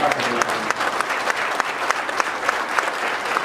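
An audience at the close of a congress breaks into dense, steady applause, loud and sustained throughout, with crowd murmur mixed in.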